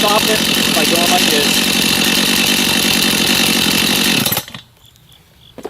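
A Stihl MS 251 C chainsaw running loud and close, its revs dropping before the engine cuts out abruptly, leaving near silence with faint handling noises and a voice speaking over the run.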